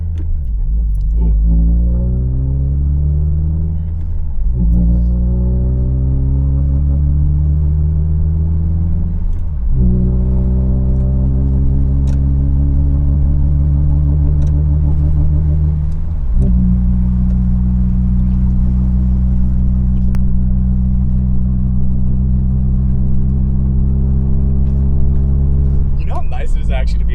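A 2022 Subaru WRX (VB) fitted with a big turbo drives along with a steady, loud engine drone, pitch climbing through several gears with clear shift breaks, close inside the cabin.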